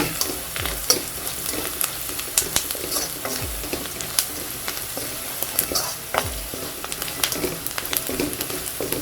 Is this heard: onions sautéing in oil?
yes